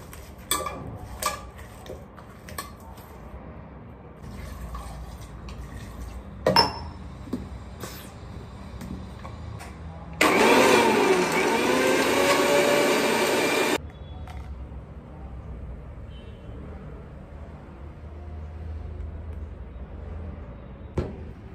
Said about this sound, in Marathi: आणि आता आपल्याला याला करायचं ब्लेंड. थोडासा बर्फ घालते मी आणि हाफ ग्लास पाणी.